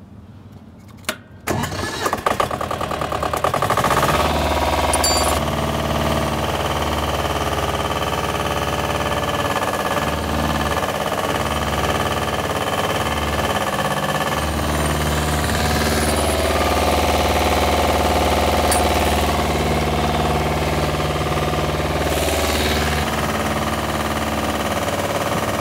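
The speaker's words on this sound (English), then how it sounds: "Now we're going to start the engine and do a demonstration." The engine of a Big John 55D or 65D tree trailer cranks and catches after a brief pause, then runs loudly and continuously at a steady mid-pitched rumble during a demonstration, with no talking.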